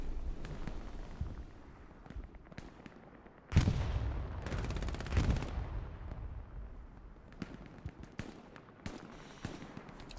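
Machine gun fire in the video game Hell Let Loose, in a 49-versus-49 battle: a sudden loud burst of rapid shots, then scattered, more distant gunfire and crackling over a steady battlefield din.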